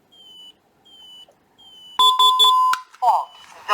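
An ADT alarm keypad beeps as a door window sensor is tripped: three soft, evenly spaced tones, then a louder rapid run of beeps, followed by a synthesized voice announcing a zone fault.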